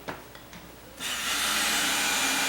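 A screw is driven into a door hinge. A few light taps and scrapes come first, then a power driver starts up with a continuous close whirring grind that holds steady to the end.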